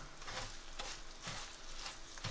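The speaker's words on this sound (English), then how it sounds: "slightly fry these spices before mixing them with the minced meat" Spices frying in a pan for aloo qeema before the minced meat is mixed in, heard as a faint, steady sizzle with soft rhythmic stirring swishes.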